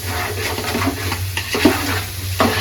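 Chicken pieces fry for chicken polao, a loud, dense, continuous sizzle close by with a low steady hum underneath and occasional stirring scrapes.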